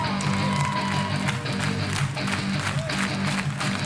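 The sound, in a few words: audience clapping along at a live concert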